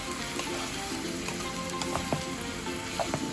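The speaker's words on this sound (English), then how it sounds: "So I'm just going to allow the onions to cook for a while until it's nice and soft." Onions with garlic fry in a pan for a king prawn bhuna, a constant close hiss with scattered small pops and crackles over a faint hum, no talking.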